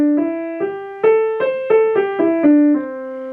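Piano plays a major pentatonic scale, about nine clear ascending then descending single notes at an even, moderate pace, close and ringing, with no talk.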